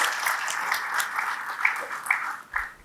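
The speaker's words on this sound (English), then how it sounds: "A big round of applause for all of you." An audience at a university ceremony claps together in sustained, moderately distant applause that fades out after a few seconds.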